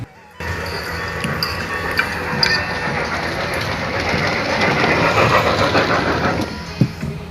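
A toy train delivering food clatters steadily along its track in a restaurant, with a continuous rolling rumble amid busy indoor background noise and a sharp knock near the end.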